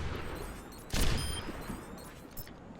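Widowmaker's sniper rifle from the game Overwatch fires once, a loud close crack followed by a fading tail, with a few fainter shots or impacts after it over background game noise.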